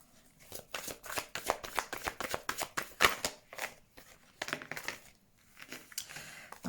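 Tarot cards are shuffled by hand in a quick run of crisp riffling flicks and slaps, close and fairly quiet, with a short pause near the end.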